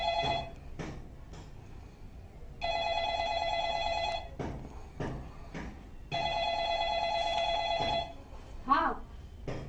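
A landline telephone bell rings in two long bursts at moderate volume in a home, with voices talking before, between and after the rings.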